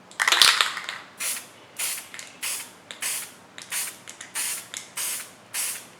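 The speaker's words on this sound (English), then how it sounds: "Take the spray can," A series of short hissing bursts from a spray can, about ten evenly spaced sprays, close and fairly loud with no talking.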